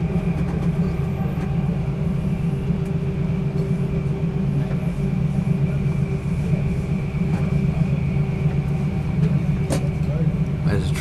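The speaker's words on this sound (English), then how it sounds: "There's a train over there too." A freight train hauled by two QR National locomotives rumbles steadily for the whole stretch, a continuous low drone with a faint high whine, heard from a passing passenger train.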